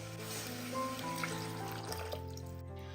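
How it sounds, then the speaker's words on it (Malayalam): Water pours into a pressure cooker holding soaked chickpeas, a quiet continuous trickle and fill that runs for about three seconds under a low, steady background hum, with no one talking. "വേവിച്ചെടുക്കുന്നതിന് ആവശ്യമായിട്ടുള്ള വെള്ളം ഒഴിച്ചു കൊടുക്കാം."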